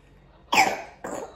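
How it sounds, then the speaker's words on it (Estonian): Two harsh coughs from a person, the first louder and longer and the second shorter, close to the microphone with no talk. "Sul on päris kole köhatibu."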